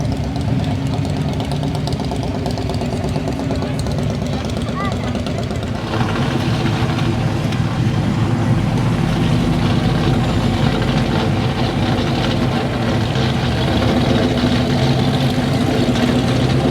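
A 1957 Cadillac engine idling at an outdoor car show during a Friday night cruise, a steady low rumble beneath continuous crowd chatter and background show noise.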